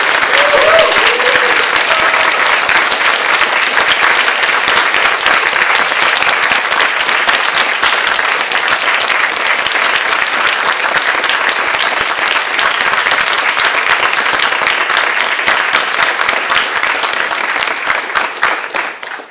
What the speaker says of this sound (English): maybe we can do a round of applause for Felipe, who organized all of this